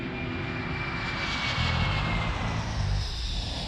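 An Aeroflot airliner roars steadily on takeoff, its loud jet engine rumble swelling slightly, with no voices.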